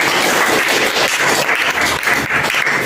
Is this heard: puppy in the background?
no